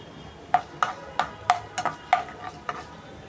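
Mustard seeds and cumin frying in hot oil make a handful of sharp, crisp pops spaced irregularly over a quiet, low sizzle, close by but faint.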